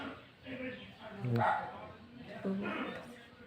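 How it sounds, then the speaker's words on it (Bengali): A foreign-breed dog gives a few short, faint barks at a distance, mixed in with people talking nearby. "বিদেশি কুত্তাই মনে হয় বউ বউ করতে রে"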